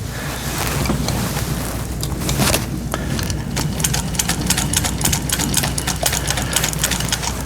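A hand-cranked antique 1939 Singer sewing machine stitches at a steady pace, its needle and mechanism producing a quick, even run of light mechanical ticks close by, with no voices.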